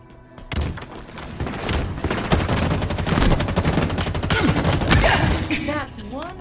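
Dense, loud weapon fire in Halo Infinite, with rapid shots and thumping impacts running almost continuously, along with game voice announcements.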